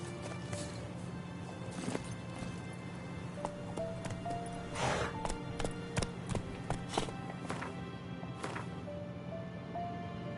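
Roach the horse's hooves clip-clopping across ground in The Witcher 3 Wild Hunt, a steady run of fairly close hoofbeats with a brief snort or whinny amid game ambience.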